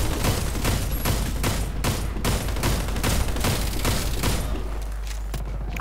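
Rapid bursts of video-game gunfire fill the whole stretch, repeated shots and thuds close and loud with no pause, no talking over them.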